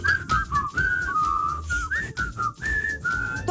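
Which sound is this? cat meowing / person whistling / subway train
person whistling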